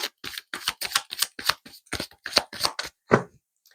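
Tarot cards are handled and laid down to cover the High Priestess card, producing a quick series of close, crisp card slaps and shuffling flicks, about a dozen in rhythmic succession.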